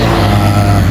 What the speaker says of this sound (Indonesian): ada beberapa truk yang bermuatan berat